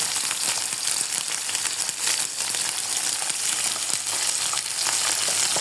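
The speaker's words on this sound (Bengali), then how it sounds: "এখন আমি কিছু তেল দিয়ে দিলাম এবং এই তেলের মধ্যে আমি আগে এই যে চিংড়ি মাছগুলো রয়েছে এগুলিকে অল্প হলুদ এবং লবণ দিয়ে ভেজে নেব।" Prawns coated with turmeric and salt fry in hot oil in a pan, giving a loud, steady, dense sizzle that runs unbroken throughout, with no voices.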